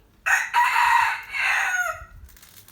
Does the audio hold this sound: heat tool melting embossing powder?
no